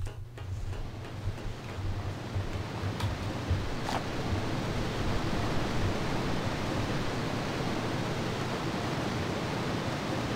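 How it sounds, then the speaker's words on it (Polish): Steady broadband rushing of a waterfall in Indiana Jones and the Infernal Machine, a dense continuous roar filling the scene with a low hum beneath and a few faint ticks early on. "Coś słyszę, jakiś wodospad."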